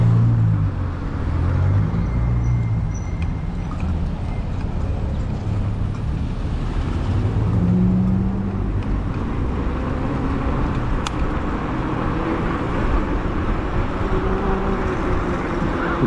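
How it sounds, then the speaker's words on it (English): Steady road traffic noise surrounds an e-bike ride through congested streets, a continuous low engine and tire rumble with passing vehicles swelling and fading, no voices. "Get out of this traffic mess"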